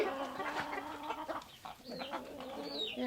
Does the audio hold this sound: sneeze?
no